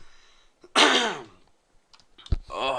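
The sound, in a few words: cough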